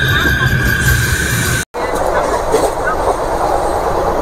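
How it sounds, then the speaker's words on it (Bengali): A Malda Town to Sahibganj MEMU train pulls away and gathers speed, its steady rolling rumble and hiss continuous apart from one brief dropout. "দেখছেন ধীরে ধীরে ট্রেন মালদা টাউন পার করে এখন এগিয়ে যাচ্ছে সামনের দিকে"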